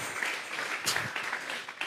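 A church congregation at a Sunday service applauds together, steady mid-loud clapping from many hands filling the room without a break.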